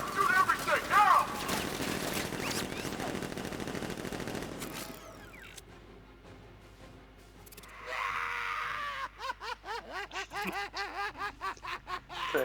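Guards firing at Batman in a Batman video game, a burst of steady automatic gunfire near the end, with shouted in-game voices and game effects before it.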